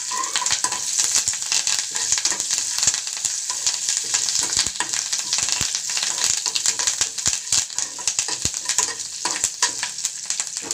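A tempering of cumin, urad dal, dried red chillies and curry leaves fries in hot oil, giving a steady, dense crackling sizzle with sharp pops throughout, close and loud with no talking.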